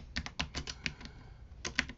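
Someone types a command on a computer keyboard: quick, light, close-up key clicks in an uneven run, a brief pause, then a few more taps.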